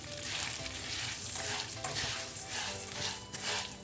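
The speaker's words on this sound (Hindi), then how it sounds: "इसको मैं तकरीबन 3 से 4 मिनट के लिए जो है मीडियम टू लो फ्लेम पे इसमें फ्राई करूँगी" Puffed rice (murmura) fries in a pan over medium to low flame, giving a steady, soft crackling sizzle with faint stirring, close up and fairly quiet.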